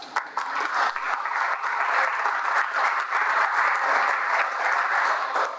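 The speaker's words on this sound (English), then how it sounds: "I think everybody in here deserves a round of applause" A roomful of people at a League of Women Voters annual meeting claps together, a loud, even burst of applause sustained for several seconds with no voices over it.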